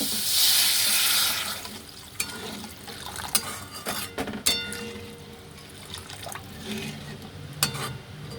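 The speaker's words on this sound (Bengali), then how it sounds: "দেখুন এর মধ্যে জল দিয়ে দেবো।" Water is poured into a cooking pot for chicken momo soup, a bright rushing splash for about two seconds, then lighter trickles, stirring and clinks of a utensil against the pot, close and without speech.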